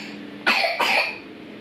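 Two short, sharp coughs from a child in quick succession, fairly close, with a quiet room hum before and after.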